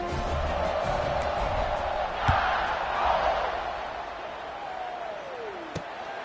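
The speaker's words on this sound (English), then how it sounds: "this crowd is buzzing after that last score" Stadium crowd in College Football 26 after a score, a broad, continuous roaring murmur with occasional thuds and a descending whistle-like tone near the end.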